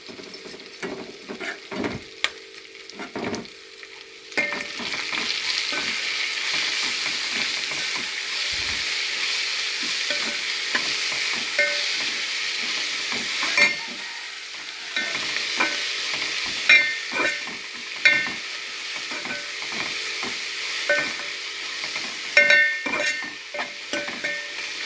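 Grated raw mango and turmeric being stirred into a hot tempering for mango pulihora, a steady sizzle with frequent spoon scrapes and taps against the pan after a quieter start.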